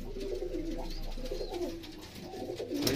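Home-bred racing pigeons in a loft breeding setup coo steadily in low, overlapping rolling phrases, fairly close and continuous, with no talking.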